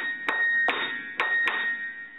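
Treble notes on an upright piano are struck quickly during tuning, four sharp hammer attacks each ringing into a bright sustained tone, close and clear with no talking.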